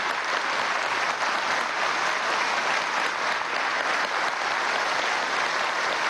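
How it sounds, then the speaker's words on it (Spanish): A crowd at a political commemoration gives a long, loud, continuous round of applause, dense clapping at steady intensity filling the whole stretch with no voices standing out. "Yo pediría que demos un minuto de aplauso por esta fecha."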